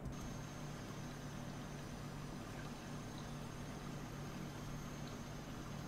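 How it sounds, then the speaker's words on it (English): A river flowing through a forest reserve gives a steady, even rush of water that holds at one level throughout, with no voices or other distinct sounds on top. "so I just recorded the sound of that river."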